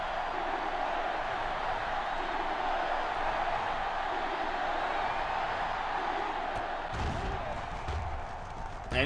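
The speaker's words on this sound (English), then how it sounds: "Crowd going wild." Broad stadium crowd roar from NCAA Football 06 rising and holding as a steady wash of cheering, with a brief thud near the end and a commentator's voice faintly under the noise.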